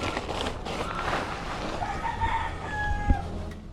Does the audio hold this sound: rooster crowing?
yes